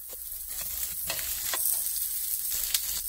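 Tomatoes, onion and garlic fry in a pan, giving a steady close sizzle with a few sharper crackles and stirring scrapes throughout, no voices.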